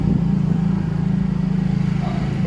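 A motorcycle rides around a residential subdivision with a dog along, its engine a steady, continuous low drone that stays close and loud throughout with no clear revving.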